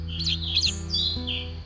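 A male orange-headed thrush (anis merah) calls close by in a series of bright, clear chirps and short warbled notes, fairly loud, over a low steady background hum.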